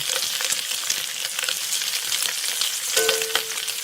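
Sous vide pork chops sear in a pan with butter, a loud, continuous close sizzle and crackle with occasional brief clinks of utensils, no talking.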